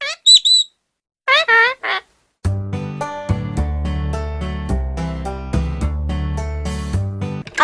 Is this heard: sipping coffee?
no